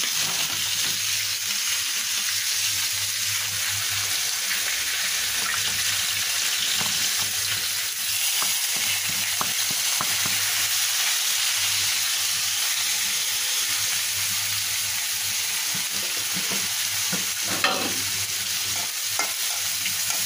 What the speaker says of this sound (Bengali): একটা কড়াইতে পেঁয়াজ কুচি দিয়ে দিয়েছি